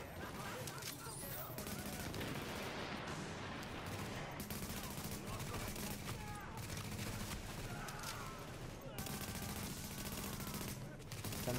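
Dense gunfire in Tom Clancy's The Division with incendiary ammunition, a continuous loud fusillade of rapid shots mixed with game effects and voices throughout.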